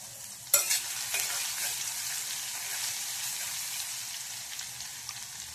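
Crushed cumin and garlic hit hot oil in a pan with a sudden loud sizzle, then a steady hissing fry with light spatter continuing throughout, close and without talk.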